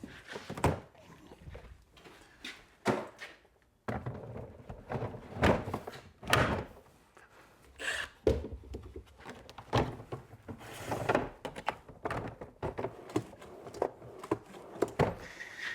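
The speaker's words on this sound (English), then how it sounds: "And the drawers go on." Milwaukee Packout drawer units clunk into place on a storage wall mount, a series of loud, close thunks and knocks with plastic-on-metal clatter in uneven rhythm.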